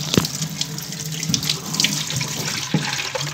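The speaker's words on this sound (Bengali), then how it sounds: "দুটো বোতল জাস্ট এখন ভরবো, তাই চলো আগে বোতল দুটো ভরে আসি।" Hot water runs from a tap to fill two bottles, a steady close splashing stream with a few small knocks and no talking.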